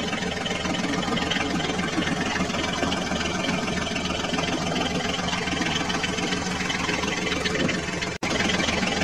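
A toy Eicher tractor engine runs steadily as it drives forward, a continuous loud, even rumble with a brief dropout near the end and no talk.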